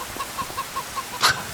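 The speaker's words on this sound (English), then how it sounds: "That chicken's outside." An escaped chicken outside clucks softly in a quick run of short, even notes on a farm, then gives one louder squawk near the end, heard at a moderate distance.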